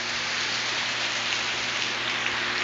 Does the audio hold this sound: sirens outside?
no